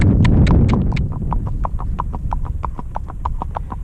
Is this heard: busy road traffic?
no